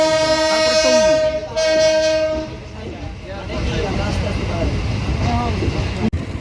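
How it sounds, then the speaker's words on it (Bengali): The 2 Down Dhaka Mail passenger train in Bangladesh sounds a long, loud horn blast, then settles into a steady, close rumble and clatter of carriages on the rails. A voice can be heard over the noise. "বত্রিশ মিনিট বিলম্বে ছেড়েছে এই টু ডাউন ঢাকা মেইল আমাদেরকে নিয়ে"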